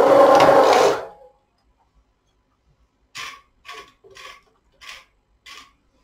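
The carriage of a Singer Memo II knitting machine is pushed across the needle bed, knitting a row in a series of close, short mechanical clacks and rattles after a brief louder burst, with no talking.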